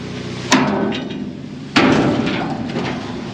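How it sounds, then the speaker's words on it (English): A sledgehammer strikes metal on farm equipment near a grain cart, two sharp loud clangs about a second apart, each ringing and decaying over a steady background. "let me grab the sledgehammer"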